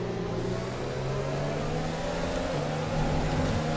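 A Formula 1 race car engine in the F1 2020 video game, racing at Zandvoort with the engine in poor condition, drones at high, steady revs with a slight rise in pitch, loud and continuous with no talking.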